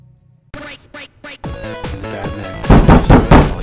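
Several sharp knocks on a door in a dark stealth game, a spaced series of loud raps followed by denser thumping and clatter close by.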